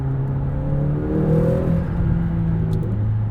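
A 2021 McLaren GT engine revs and drones steadily in sport mode, pitch rising then settling, with a constant rumbling roar throughout.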